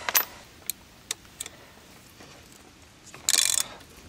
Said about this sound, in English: Now that she's on, tighten your wheel back up.